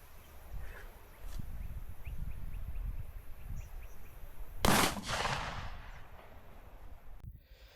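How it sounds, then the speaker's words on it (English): A Taurus Raging Judge revolver fires triple-B .410 buckshot, giving a single sharp, loud blast with a short echo amid quieter outdoor background sounds. "I want to shoot some triple B 410 buckshot out of my Taurus Raging Judge"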